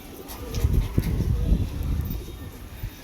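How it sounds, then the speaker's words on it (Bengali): Pigeons coo in low, soft, repeated bursts close by, with a faint bird chirp above. "বহুত দিন পরে পায়রা ছেড়েছি গাইস বাইরে।"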